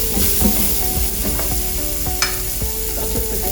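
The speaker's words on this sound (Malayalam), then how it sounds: "നമുക്ക് ഇഷ്ടമുള്ള വെജിറ്റബിൾസ് എല്ലാം ഒന്ന് സോട്ട് ചെയ്തെടുക്കാം" Vegetables sautéing in a hot pan as a side for beef steak, a steady loud sizzle with repeated scraping stirs of a utensil, close up and without voices.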